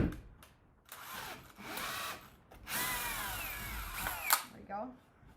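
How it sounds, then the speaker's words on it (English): A power drill bores through a wood block for a solitary bee hotel in several whirring bursts that rise and fall in pitch, close by, with pauses between runs and some talking heard. "I'm drilling this all the way through"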